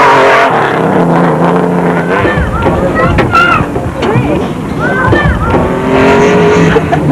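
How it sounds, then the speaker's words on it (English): Off-road rally vehicles in the Baberspan 500 race through rural North West Province roar loudly and close, with rising and falling engine whines and passing swells over a constant rumble. "the normally restful atmosphere of rural Northwest Province was being shattered by the roar of thundering engines"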